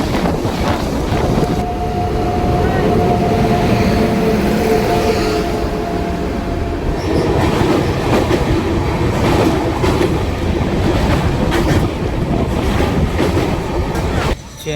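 Saurashtra Mail passenger train running on rails during a special centenary journey, a steady loud rumble and rattle of wheels and carriages with wind noise throughout, heard continuously up close.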